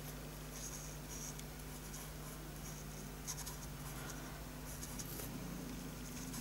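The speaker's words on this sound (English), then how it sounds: "it really only takes a few seconds to colour in Bunny" A pen colouring in a stamped bunny image on an Easter card, a soft steady scratchy rubbing that continues quietly throughout.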